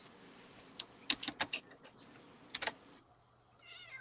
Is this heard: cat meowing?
yes